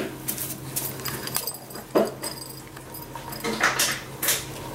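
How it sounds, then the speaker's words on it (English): Three-week-old puppies shuffle and make small squeaks and whimpers, with soft scratchy movement noises close by. "So there are the Ari puppies at 3 weeks and 4 days"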